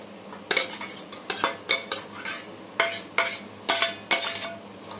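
Minced meat stirred in a pan with softened onions for a baked béchamel pasta tray, heard as rhythmic bursts of a utensil scraping and clattering against the pan over a faint sizzle, with no talk.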